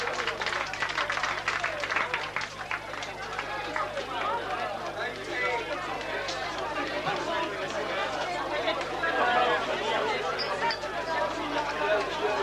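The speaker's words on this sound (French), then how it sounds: "je crois qu'on peut les applaudir" An outdoor crowd at a stadium inauguration applauds demonstrators after a display in the rain, with sustained clapping mixed with chatter and babble, moderately loud and continuous throughout.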